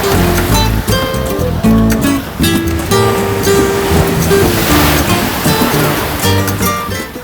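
Sea waves on a Barcelona beach, a loud continuous wash of surf heard up close, overlaid by music and background chatter.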